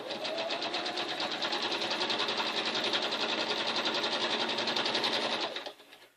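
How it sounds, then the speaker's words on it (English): Sewing machine stitching a straight seam: a steady, fast mechanical whirring and ticking, close and continuous for several seconds before stopping abruptly, with no talking. "Okay, we are going to just sew this straight down that way."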